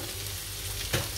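Food fries in a pan with a steady, close crackling sizzle and one short louder clatter near the end.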